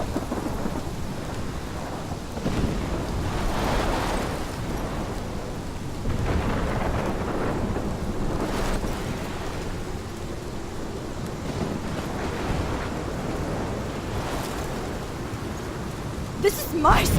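A thunderstorm in the video game Life is Strange: heavy, continuous rain hiss with repeated low thunder rumbles swelling and fading throughout, loud and enveloping, with a few sharper cracks near the end.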